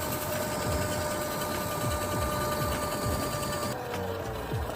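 A steady electric dirt bike motor whine with a high tonal hum runs continuously under rushing wind noise at about 37 mph, fairly loud and close.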